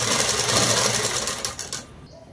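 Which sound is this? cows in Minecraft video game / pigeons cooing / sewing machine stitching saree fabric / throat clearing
sewing machine stitching saree fabric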